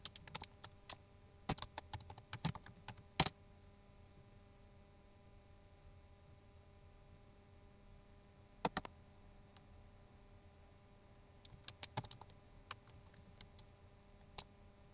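Keys clatter on a computer keyboard as a username and password are typed, in quick clusters of close, crisp clicks separated by long silent pauses over a faint hum.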